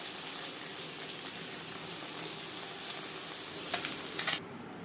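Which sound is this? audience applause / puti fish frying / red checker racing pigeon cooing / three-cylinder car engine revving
puti fish frying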